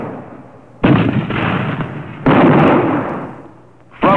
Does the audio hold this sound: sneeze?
no